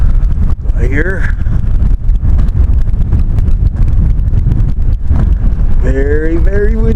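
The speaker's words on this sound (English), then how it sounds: "Very, very windy. I'm about to get blown away." Strong wind buffets an RV in a cold, dusty setting, roaring loudly and constantly against the microphone. A voice briefly cuts through the gusts near the start and again near the end.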